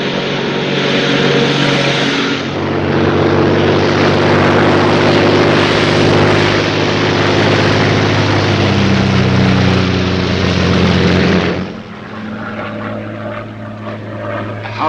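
A Royal Air Force propeller plane drones steadily and loudly in flight. The engine roar holds constant throughout and eases slightly near the end.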